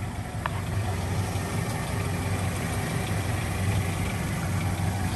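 A 1998 Toyota Tacoma SR5 extended cab with a 2.4L four-cylinder and five-speed idles with a steady, even low rumble and faint mechanical hum, close by and unbroken throughout.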